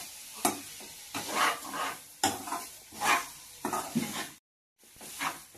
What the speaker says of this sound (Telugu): పన్నీరు, మష్రూమ్స్ వేస్తాం